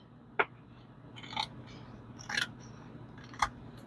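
Scissors snipping the edge of a cured resin pond, four separate crisp cuts spaced about a second apart, close and quiet against a faint hum.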